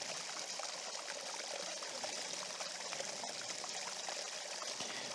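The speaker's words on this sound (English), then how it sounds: "the flowing water" Flowing water at a landscape photography location with a pond, a steady trickling stream rushing evenly and fairly softly throughout, with no voices.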